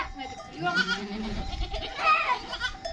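Goats bleat on a highland pasture during morning milking, several wavering cries rising and falling close by over a low outdoor rumble, with someone talking in Turkish between and over the calls.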